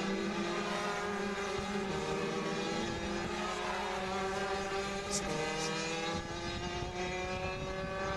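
Rotax DD2 racing karts circle a track in a race final, their engines whining in rising and falling tones as several pass in a continuous, fairly distant buzz.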